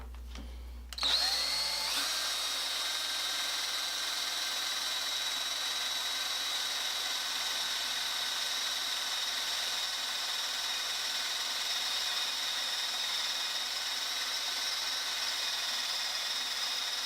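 Power drill boring a hole, likely with a bit freshly sharpened on a Darex Drill Doctor 250: a click starts it, then a loud, steady high whine runs unbroken for about sixteen seconds, close and alone.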